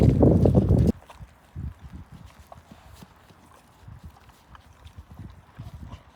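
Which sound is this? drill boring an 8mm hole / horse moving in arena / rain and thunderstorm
horse moving in arena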